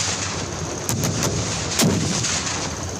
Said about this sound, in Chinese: 瞄准了后发射红准火箭弹，精准击到200公尺外的地区